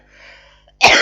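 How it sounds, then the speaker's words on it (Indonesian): A single sharp cough bursts out close and loud at the end, following a quiet stretch of faint breathy noise. "Batuk saya teman-teman."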